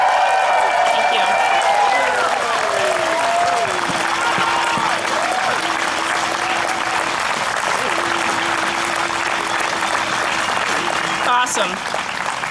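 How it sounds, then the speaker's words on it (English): A rally crowd cheering and applauding, dense clapping and whoops running throughout, with whistle-like tones and a steady tone sliding under the noise before a brief sharp clatter near the end. "let's give a loud Beverly cheer if you're committed to supporting Beverly on her path of love and conclusion."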